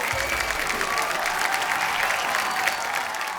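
A television comedy studio audience breaks into loud, dense applause, a steady wash of clapping with no pauses.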